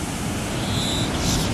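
Ocean surf breaks at a beach where a car can drive right up to the water, a loud, continuous wash of waves mixed with wind buffeting the microphone.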